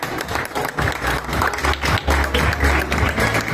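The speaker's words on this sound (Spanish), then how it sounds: "Fuerte el aplauso, por favor." A crowd gives sustained applause at an outdoor sash ceremony for popular-pageant candidates in El Centro, with steady dense clapping throughout and faint voices mixed in.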